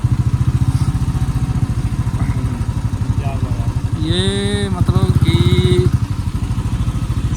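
A motorcycle rides a road in the Parvati Valley, its engine thrumming in a steady close low pulse throughout while someone talks briefly over it.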